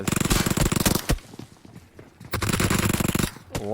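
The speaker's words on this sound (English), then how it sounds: "Looks like he has an M7 now, close range shots." Rapid automatic gunfire from an M7 rifle at close range in a competitive video game scrim, two loud sustained bursts separated by a short lull, with quieter shots in between.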